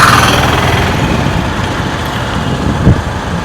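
A motorbike crawls along at about 10 km/h in low gear through traffic, its engine running with a steady low putter and a small thump near the end, with no talking.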